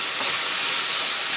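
Peppers and mixed vegetables sautéing in a pan for Asian-style pesto pasta, a loud, dense, even hiss of sizzling close by with no voices.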